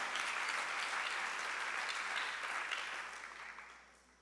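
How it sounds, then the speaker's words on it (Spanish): A church congregation at a Spanish-language service claps in sustained applause that holds steady, then gradually fades out over the last second or so. "Dale un aplauso al Espíritu Santo de Dios."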